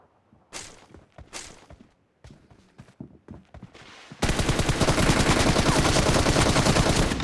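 Video game gunfire starts as scattered single shots and short bursts, then breaks into a loud, sustained, rapid automatic volley that runs to the end.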